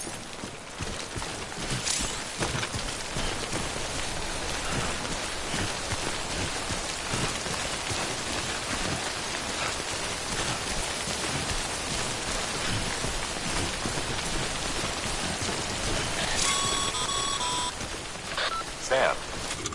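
Timefall rain in the Death Stranding video game, a dense continuous hiss of rainfall on surfaces with faint clattering and short electronic tones near the end.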